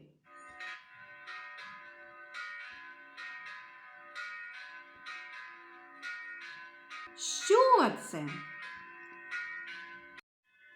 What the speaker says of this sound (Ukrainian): Це дзвін церковних дзвоників.